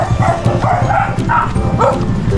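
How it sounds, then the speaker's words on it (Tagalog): A large pedigree dog gives a quick run of yips and whimpering barks close by, several short calls spread across two seconds. "Aso."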